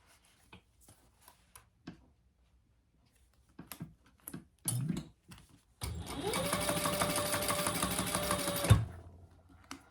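A sewing machine stitches a seam on a thick shoulder bag. After several seconds of faint taps and handling noises, it runs in one steady, loud burst of about three seconds and then stops with a soft thump.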